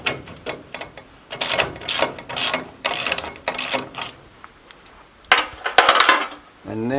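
A ratchet loosening a bolt gives bursts of rapid metallic clicks in several short runs, close and fairly loud, with small clanks of tools between them.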